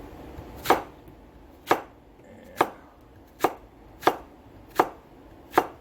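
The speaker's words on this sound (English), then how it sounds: "I'm just cutting up the last of the zucchini." A knife slices zucchini on a cutting board in seven evenly spaced, crisp chops, close and clear with no talking.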